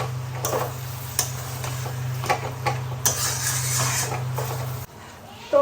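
Chicken pieces pressed and stirred in a pan with a utensil for a Bengali chicken bharta, heard as close, irregular metallic scrapes and taps over a steady low hum that cuts out near the end.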